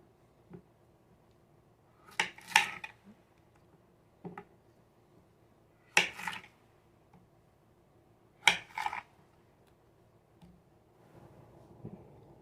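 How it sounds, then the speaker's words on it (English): A knife slicing through firm pickling cucumbers for packing into a jar, giving sharp crisp cuts in small clusters separated by pauses, close and fairly quiet with no talking. "slide it where it cuts right through that outer skin"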